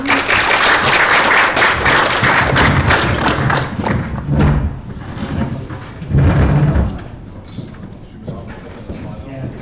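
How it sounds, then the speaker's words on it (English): A crowd claps loudly for several seconds, then the applause thins and fades while voices and a few thuds carry on underneath. "Can we have a round of applause"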